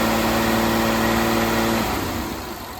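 A car engine on a fuel system lab bench revs high and steady, a loud close mid-pitched roar holding for nearly two seconds before the revs drop away.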